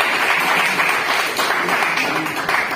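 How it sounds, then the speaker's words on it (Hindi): Loud applause welcoming customers at a KTM RC motorcycle launch event in a showroom, a dense continuous wash of clapping. "आप दोनों लोग करिए और एक तालियों से स्वागत के साथ"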